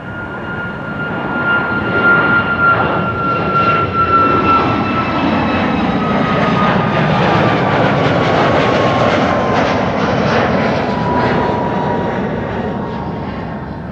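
A United 767-300 twinjet airliner takes off at Amsterdam Schiphol Airport, its engines giving a loud, sustained roar with a rising whine that swells and slowly shifts in pitch as it passes, heard alone without talking.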